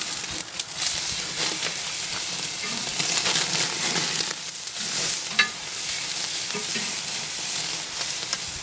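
Steaks sear on a Grill Dome Kamado grill with a loud, steady sizzle and hiss. Brief crackles and bumps break through the sizzle as the meat is flipped and settles back onto the hot grate.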